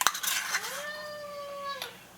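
A house cat gives one drawn-out, rising-then-steady meow up close, framed by a few light clinks of dishes or cutlery in a quiet kitchen.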